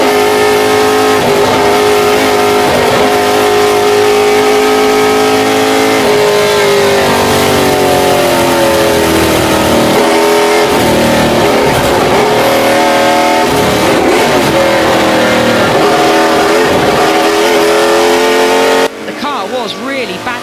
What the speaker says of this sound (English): Fred Shepherd is going extremely well, number 17 in the Mustang